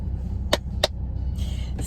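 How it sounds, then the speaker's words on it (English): A 2021 Audi engine idles low and steady, broken by two sharp crackling pops from the exhaust and then a brief hiss. The sound is close, with no voices. "Should give it a bit of a rev. Got some pops and bangs."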